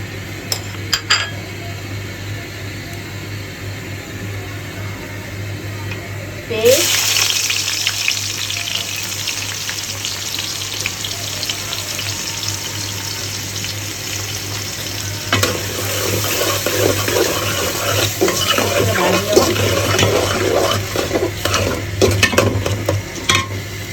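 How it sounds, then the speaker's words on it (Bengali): Roast meat fries in oil with bay leaf, cardamom and cinnamon, a loud sizzle that flares suddenly and builds, with metal spoon scrapes and clinks against the pot throughout. "একটু রোস্ট ভাজা করছি, তেল দিলাম, তেজপাতা, তারপরে এলাচ, দারচিনি"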